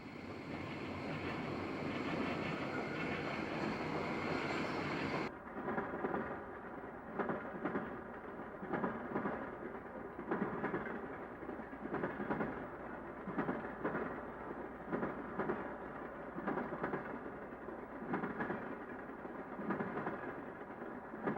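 DT&I freight train KD-12 rolling over a railroad diamond at a tower crossing, a distant rumbling mass of noise that gives way to a rhythmic series of wheel clunks repeating steadily as cars pass over the crossing.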